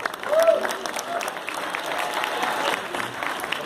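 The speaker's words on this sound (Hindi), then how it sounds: "आपकी तालियां कुछ कम आ रही हैं" Applause from a live audience at a stage performance, moderately loud and a little thin, a crowd clapping for a few seconds with some voices mixed faintly underneath.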